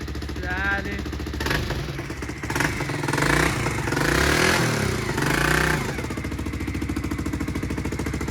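A Hero motorcycle engine starts and revs with uneven clatter, rising loud for a few seconds then settling into a steady idle, with some voices nearby, in Pokhara.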